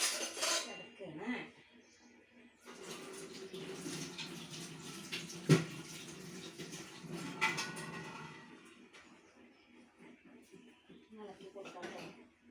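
Spoon scraping and clinking in a pot of boiling curry in a small home kitchen, with bubbling and a sharp metallic knock, heard amid nearby activity and occasional voices.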